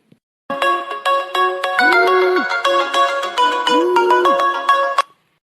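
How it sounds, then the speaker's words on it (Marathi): A phone ringtone plays a repeating electronic melody of bright tones, loud and close, continuing for about five seconds before stopping abruptly. "फोन आला वाटते कोणाचा आहे"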